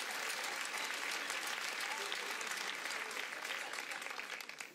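Audience applause at a live wine-themed desgarrada folk singing show, steady, dense clapping from a sizable crowd, sustained evenly throughout and tapering slightly at the end.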